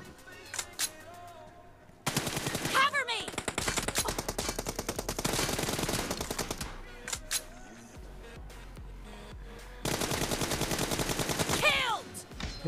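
Automatic gunfire in a first-person team deathmatch video game, several loud rapid bursts separated by short pauses, with single shots and a voice speaking in the gaps.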